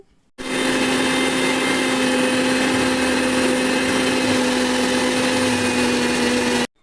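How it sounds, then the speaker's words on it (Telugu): Electric mixer grinder grinding henna leaves with lemon into a paste, a loud steady motor whine that starts abruptly, runs unbroken for about six seconds close by, then cuts off. "ఇప్పుడు మిక్సీ అయితే పడతాను"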